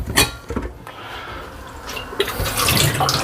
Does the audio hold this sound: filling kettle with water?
yes